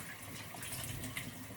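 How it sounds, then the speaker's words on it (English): Steady water running from a faucet while someone's head is rinsed, a continuous close hiss with no talking. "when you put your head in the faucet"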